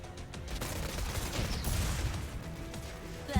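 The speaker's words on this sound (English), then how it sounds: "And the missiles begin." Missile barrage in the video game Girls' Frontline, a dense, continuous rumble of rapid launches and impacts running steadily throughout, with no talking.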